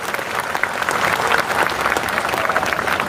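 Dense crowd applause at an outdoor protest rally in Yavat, Daund, greeting MLA Sangram Jagtap: steady, loud massed clapping from many hands, with no speech over it.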